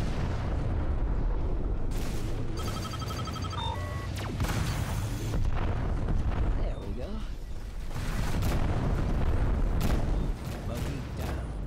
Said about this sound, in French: Si ça, c'est pas des explosions, les amis.